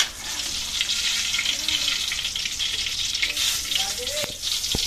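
Tortang talong, an eggplant omelette with ground pork, sizzles steadily in a frying pan, a loud continuous crackle with a few light clinks and scrapes near the end and no voices.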